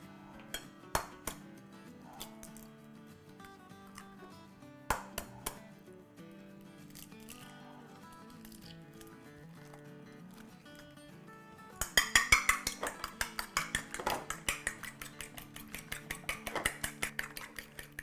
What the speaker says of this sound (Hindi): बस चले ये ठंडा होता है जब तक हम कुछ अंडे फेंट लेते हैं